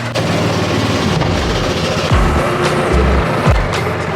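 A side-by-side UTV with a previously overheating engine pulls away into mud in four-wheel drive, its engine roaring loud and close with rising and falling revs and a few heavy thumps, no talking.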